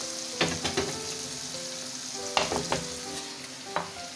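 Potatoes frying in a pan for a smoky potato and mince dish, a low steady sizzle punctuated by a few bursts of stirring and clattering utensil scrapes, close by, with no talk.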